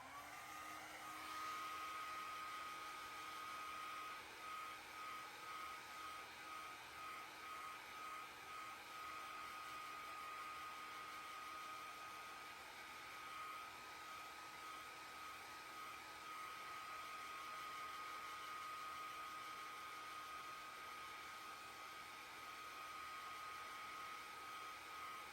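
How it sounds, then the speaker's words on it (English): Hair dryer blowing steadily to dry a layer of paint on a painting, a continuous whirring hum with a faint high whine, moderately quiet and without talk. "Here comes the hairdryer."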